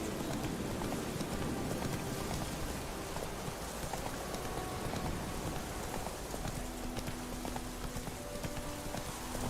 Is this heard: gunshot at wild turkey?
no